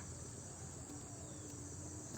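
Chicken soup with butter boiling in a pot gives a steady, faint simmering hiss and bubble that runs unbroken through the whole stretch, with no voices.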